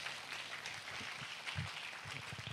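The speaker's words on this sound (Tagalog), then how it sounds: "palakpakan po natin ang Panginoon" A church congregation claps in praise, with faint, scattered, continuous applause heard at a distance.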